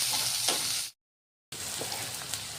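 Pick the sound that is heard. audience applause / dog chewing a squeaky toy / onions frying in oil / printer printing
onions frying in oil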